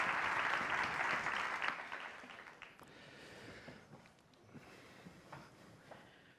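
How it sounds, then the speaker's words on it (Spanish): An audience in Valencia applauds as two guests are welcomed to an interview onstage, loud clapping at first that thins and fades into scattered claps and room noise. "Un aplauso, por favor"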